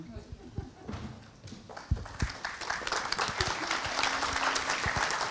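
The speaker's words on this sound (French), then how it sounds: "Je crois effectivement qu'on peut les applaudir" A conference audience breaks into applause, starting with scattered claps and swelling into a dense, steady round that fills the hall, heard at a modest distance.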